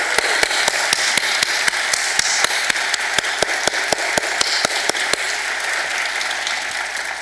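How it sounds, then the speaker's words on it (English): An audience applauds the board of directors at a book festival event, a sustained wash of clapping with sharp individual claps standing out, fading slightly toward the end. "please join me in giving them a round of applause"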